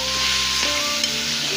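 Radish pods and potatoes sizzle steadily as they are stir-fried in a pan, a continuous loud frying hiss close up with a faint clatter of stirring.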